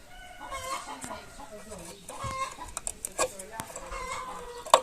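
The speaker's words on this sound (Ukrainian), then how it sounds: "Ще й петушара тер кукурикать почав" Chickens cluck nearby, and a rooster crows in short bursts, with scattered clatter and occasional voices in the background.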